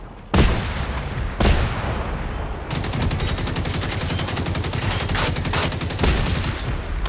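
Gunfire in the video game Generation Zero: a couple of heavy single shots, then a long, loud, rapid automatic burst that keeps hammering without a break.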